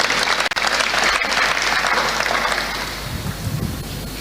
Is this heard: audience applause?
yes